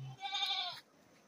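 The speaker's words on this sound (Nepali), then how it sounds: "बाख्रा कराएर के समस्या पनि भयो" A goat gives a single close, loud bleat, wavering and nasal, lasting about half a second before dropping to quiet farmyard background.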